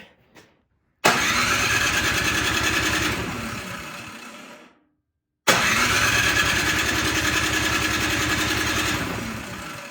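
Troy-Bilt Squall 2100 snowblower engine cranking without starting: two long, loud bursts of rhythmic churning, each lasting about three to four seconds and trailing off, separated by a short silence, with no voices.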